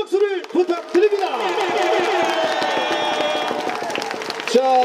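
Stadium crowd applauding baseball players at a pennant-clinching ceremony for the Kia Tigers, a sustained wash of clapping and cheering that swells after an announcer's lines, with a voice over a PA at the start and end.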